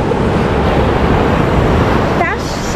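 Ocean waves wash onto a pebble beach of many-coloured stones at Viana do Castelo, a continuous loud rushing surge that slackens slightly near the end.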